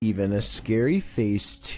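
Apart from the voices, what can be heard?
No distinct noise like a dog, phone or traffic.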